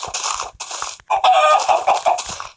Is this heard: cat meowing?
no